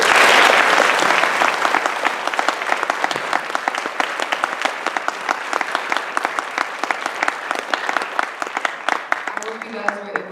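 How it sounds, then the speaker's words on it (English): An audience at a school guest-speaker Q&A applauds its guests: a loud burst of clapping that starts dense and gradually thins into scattered individual claps over about ten seconds. "Can we give our guests a round of applause?"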